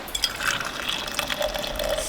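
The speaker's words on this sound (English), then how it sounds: "Ceremonial pouring of the coffee." Coffee being poured outdoors at a campsite while overlanding in Alaska, a steady liquid stream filling a cup with a rising pitch, moderately loud and alone for about two seconds.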